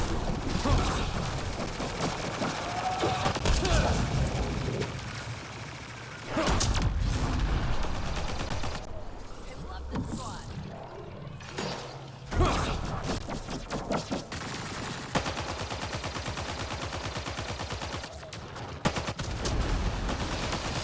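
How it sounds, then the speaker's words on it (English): In Mass Effect Andromeda, bursts of gunfire crack repeatedly amid ambient game noise, loud and near, with a few quieter lulls between volleys. "I was literally shooting at shadows then."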